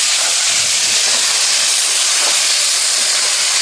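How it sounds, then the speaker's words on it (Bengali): Steady, loud hiss of steam escaping as the lid comes off a pot of cooking meat, a continuous bright rush held for several seconds with no talk. "এখন ঢাকনাটা খুলে দেখি কীরকম মাংসটা হয়েছে"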